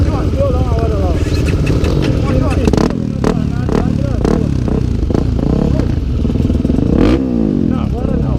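A Honda Tornado 319cc trail motorcycle engine runs loud and close on a hilly trail, repeatedly revving and clattering over rough ground while people talk throughout.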